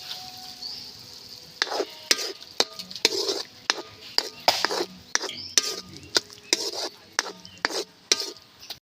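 Egg stirred into cooked bitter gourd (ampalaya) in a pan, with a soft sizzle beneath a quick series of sharp spatula scrapes and clinks against the pan, close and fairly regular.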